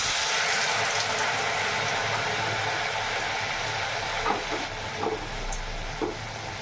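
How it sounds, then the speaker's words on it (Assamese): Pieces dipped in flour batter deep-fry in hot oil in a wok, a dense, continuous bubbling sizzle with a few faint clinks rising above it. "দেখিছে এইকেইটা ফ্ৰাই কৰি আছোঁ, ধুনীয়াকৈ ফুলি ফুলি উঠিছে"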